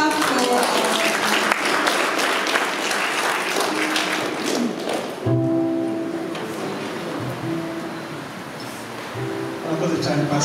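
Guests at a Rwandan church wedding ceremony applaud in a loud, dense burst for about five seconds, then the clapping thins and fades under lingering voices and murmur before picking up again near the end.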